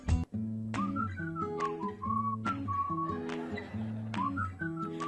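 Jaunty whistled melody of the theme song, a clear solo whistle carrying a bouncy tune over a steady plucked backing accompaniment, loud and close throughout.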